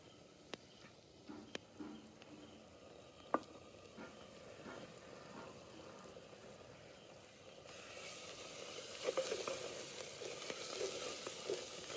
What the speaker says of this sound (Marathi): आता चांगलं मसाला तळून घेतलं, वाटलेला मसाला टाकून घेणार आहे.